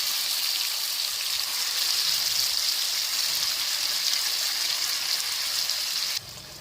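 Marinated chicken in hot ghee gives a steady, bright sizzle that holds evenly for several seconds, then abruptly drops in level near the end.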